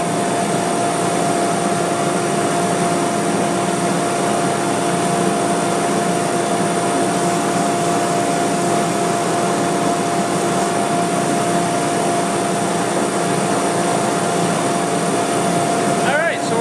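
Red oak and ipe wood candle holder pieces are sanded with a power sander, giving a steady whirring hum with a constant tonal whine, loud and unbroken throughout, with a brief scrape near the end.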